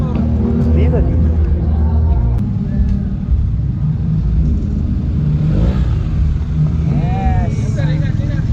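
A motorcycle engine rumbles loud and close, running continuously under excited voices along the route of the Boss Ironman 2024 race at Lingayen.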